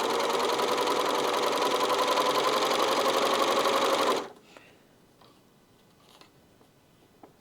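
A serger/overlocker stitches thread straight through at speed, a dense close rattling whir that stops abruptly, leaving faint handling clicks in a quiet room.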